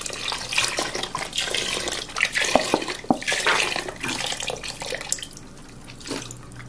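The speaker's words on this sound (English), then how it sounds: "So now, I'm gonna just add the beef broth." Beef broth is poured into a cooking pot, a close, splashing stream of liquid with irregular gurgles and drips that swells in the middle and tapers off toward the end, with no one speaking.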